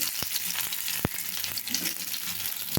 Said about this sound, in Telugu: మీడియం ఫ్లేమ్లో పెట్టుకొని వేపుకోండి ఉల్లిపాయ ముక్కలు